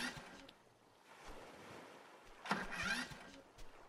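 A motor raft's engine drones on in a loop in the survival video game Stranded Deep, a steady rumbling hum blended with ocean surf and wind, moderately loud and continuous.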